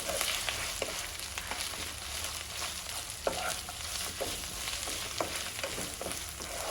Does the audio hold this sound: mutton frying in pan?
yes